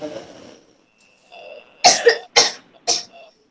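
Several coughs and throat-clearing sounds during a yoga breathing exercise, close and distinct: a softer throaty rasp first, then three sharp coughs in quick succession.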